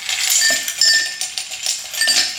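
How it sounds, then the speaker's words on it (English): Ice cubes drop into a glass for an iced latte, giving bright clinks and rattles in a few close bursts that settle and then clink again. "now I'm going to put some ice in the bottom of the glass"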